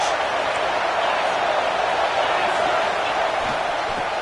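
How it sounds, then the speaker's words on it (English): A college football stadium crowd roars steadily during a second-down play, a dense, continuous wall of noise without breaks. "this crowd is turning it up a notch."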